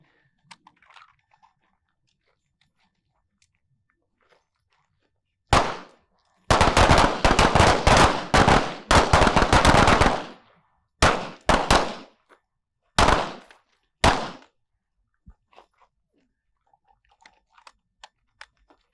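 A handgun fires rounds at a target on a shooting range: a single sharp shot, then a quick burst of closely spaced loud cracks, followed by a few more separated shots and faint clicks, with no talk.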